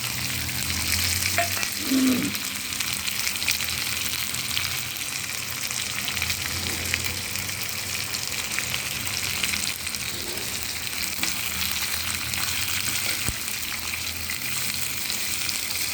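Peanuts and green chillies fry in plenty of oil with mixed sprouts for poha, giving a steady close sizzle throughout with occasional soft stirring sounds.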